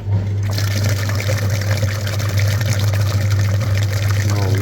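Water pours and trickles steadily while washing a clogged car heater part, a cabin filter caked with dirt, with a constant low hum running underneath throughout.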